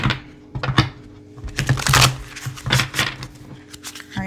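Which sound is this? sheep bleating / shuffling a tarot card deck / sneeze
shuffling a tarot card deck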